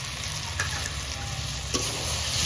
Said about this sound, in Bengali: দিয়ে একসঙ্গে কষিয়ে নিচ্ছি।